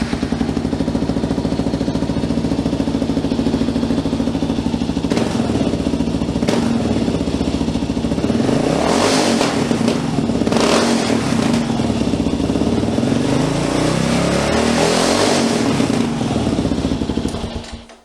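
A dual sport motorcycle with the cheapest available aftermarket exhaust, after three thousand miles of use, idles loudly up close and is revved in several sharp rising bursts before settling back to a rough, clattering idle.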